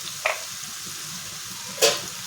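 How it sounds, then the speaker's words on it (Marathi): Capsicum sabzi fries in a pan with a low, steady sizzle, broken twice by brief sharp scrapes as it is stirred. "आणि अशी हलवत राहायचे"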